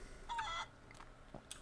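A chicken in the Barn Finders video game gives a short clucking call followed by a few faint clucks, quiet over a low background hum.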